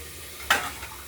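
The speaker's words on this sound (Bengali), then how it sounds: "ফুলকপিটা আবার নেড়ে চেড়ে দিলাম" Chopped cauliflower and peas get a single quick stir in a hot wok, one short scraping swish over a soft frying hiss with a fainter second scrape just after.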